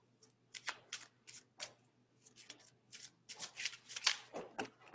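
Kipper cards are shuffled by hand in a quiet room, a rapid series of crisp riffling and slapping bursts, close and fairly soft, with brief pauses between the riffles.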